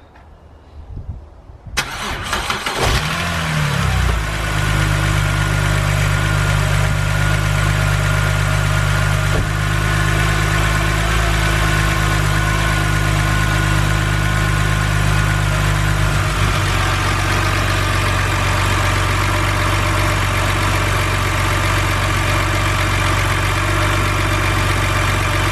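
A BMW M52 car engine cranks and fires about two seconds in, then settles into a loud, steady idle with a constant low hum that drops slightly near the end; no one speaks.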